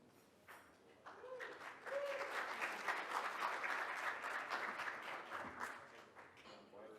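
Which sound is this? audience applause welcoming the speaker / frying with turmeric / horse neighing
audience applause welcoming the speaker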